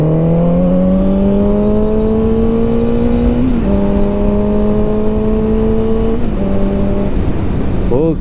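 A Kawasaki Z900 RS motorcycle engine pulls hard in second gear, its steady rising drone climbing in pitch with brief dips at shifts or throttle changes, loud and close throughout.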